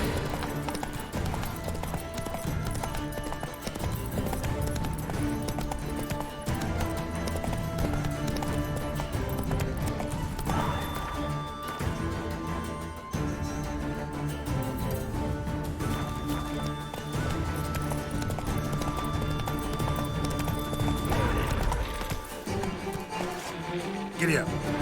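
Horse hooves gallop in a steady, rapid clip-clop rhythm in The Witcher 3: Wild Hunt, with game music and ambience layered beneath. Someone talks over it at times.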